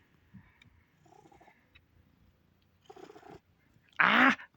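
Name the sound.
cat purring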